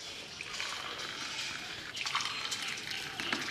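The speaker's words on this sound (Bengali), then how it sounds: "দুজনের জন্য কফি তো ঢেলে নিলাম" Coffee is poured into cups, a soft, continuous trickle of liquid at close range that rises in brightness near the middle of the pour.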